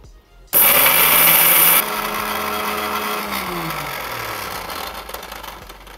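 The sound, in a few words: mixer grinder grinding roasted dhapate ingredients into flour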